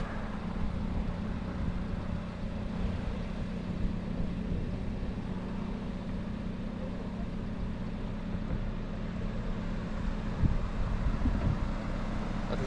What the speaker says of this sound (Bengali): অথচ বাতাস আসছে এইদিকের,